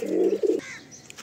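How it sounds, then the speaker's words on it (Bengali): Fulsira pigeons coo in a loft, one close, loud, throaty coo rolling for about half a second before fading into quieter background noise. "সব পায়রা অ্যাক্টিভ হয়ে রয়েছে।"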